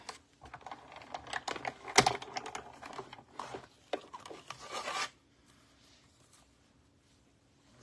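Close, steady rasping and scratchy cutting of a beauty mask, quick uneven strokes for about five seconds before it falls quiet.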